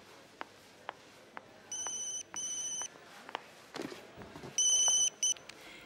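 In a TV series scene, a telephone rings in several short electronic bursts, each a bright tone repeated twice, over a quiet background with faint ticks and knocks.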